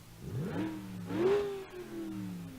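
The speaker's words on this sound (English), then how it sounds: "this thing's only a V8, as you can hear." A V8 truck engine in the BeamNG.drive driving game, revving up twice in smooth rising and falling swells, steady and fairly loud with no voices over it.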